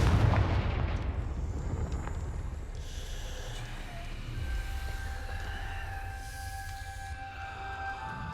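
A Confringo explosive spell blast goes off in Hogwarts Legacy with a loud, booming burst right at the start. A rumbling tail and sustained ringing tones linger after it, with no talking.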